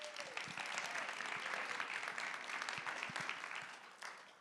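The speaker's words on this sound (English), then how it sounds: "Give Kadea a round of applause one more time." An audience at an awards event applauds steadily in a dense wash of clapping from many hands, holding for several seconds before it starts to taper off.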